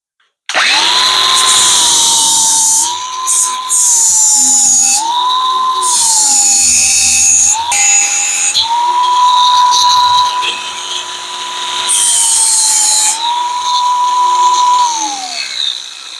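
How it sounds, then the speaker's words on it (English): An angle grinder grinds old welds off a steel boat hull, a loud close high whine that rises and dips as it bites into the metal, running nearly nonstop with short gaps. "So I'm going to grind them off now."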